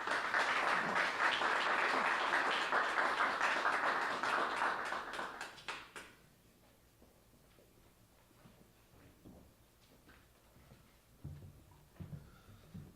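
An audience at a talk applauds to welcome Adam Myerson, with dense, loud clapping for about six seconds that then cuts off, leaving a quiet room with a few small knocks and shuffles.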